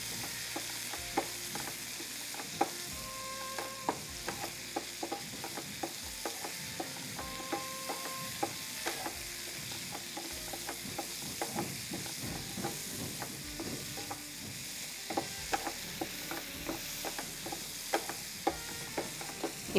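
Tomatoes with turmeric sauteing in a pan, a soft continuous sizzle under frequent scraping and clinking of a spoon stirring against the metal.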